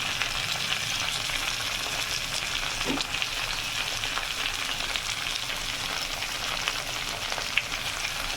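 Cauliflower and potato pieces seasoned with salt and turmeric fry in a pan with a constant, fairly quiet sizzle, broken now and then by soft clinks of a spoon.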